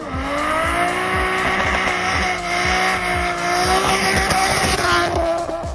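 A Nissan RB25 DET Neo 2.5-liter inline six from an R32 Skyline runs loud and steady with a rising and falling engine note and a dense, rapid pulse throughout.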